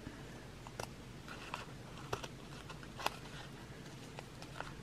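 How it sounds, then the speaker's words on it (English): Scissors snip through paper and burlap while making mixed media greeting cards, giving faint, scattered crisp clicks and crunches spread over the few seconds, quiet and close, with no talking. "now let me use these scissors because there's paper in there too"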